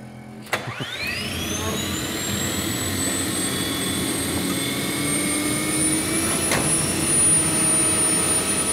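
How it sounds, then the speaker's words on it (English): A jet car's turbine engine spools up right after a sharp click and settles into a steady, fairly quiet whine with a high tonal note and a broad rushing hiss, running on alone with no voices. "when we compare the 2 turbines, you'll see how quiet this one is"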